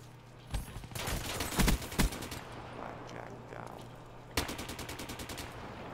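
Rapid automatic gunfire from a new DLC weapon in Black Ops 3, several close, loud bursts of rattling shots with short pauses between them, ending in a fast string of evenly spaced rounds.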